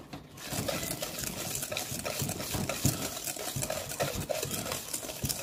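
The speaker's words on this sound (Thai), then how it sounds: "ตีจนน้ำตาลกับเนยเข้ากันดีนะคะ" A whisk beats butter and sugar together in a bowl for salted-egg wheatgrass cookies, giving a steady, busy scraping and clatter throughout at moderate loudness with no talk.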